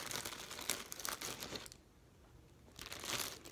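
Plastic crinkles and rustles up close in two bursts separated by a brief quiet pause.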